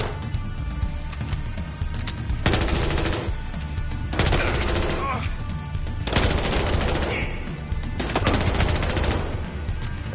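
Bursts of P90 submachine gun fire in the Battlefield Hardline shooter, loud rapid automatic volleys in several separate strings with short pauses between, mixed with game ambience.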